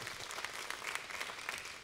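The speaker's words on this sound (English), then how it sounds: "you can clap" Brief, steady applause from an audience at a talk with a former football player, even dense clapping at moderate loudness throughout, slightly distant.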